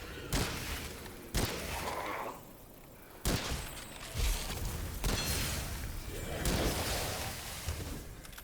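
Gunshots from a first-person shooter, Witchfire: a handful of sharp, separated blasts spaced a second or so apart, each followed by a washy decay over continuous game ambience and effects.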